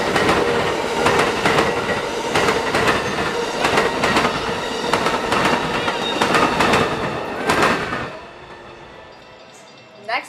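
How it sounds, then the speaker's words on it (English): A southbound manifest freight train passes on the railway near dusk, a loud steady rumble with rhythmic wheel clicks and some squeal before it fades away at the end. "It was Q-441-24, the southbound run of Manifest Freight from Waycross, Georgia to Tampa."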